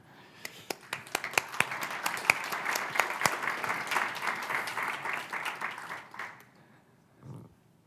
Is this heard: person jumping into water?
no